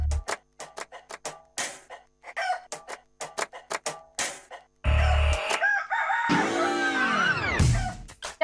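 A rooster crows as a quiz cue on a TV game show, preceded by a rapid series of sharp ticking clicks, then one loud, drawn-out cock-a-doodle-doo up close.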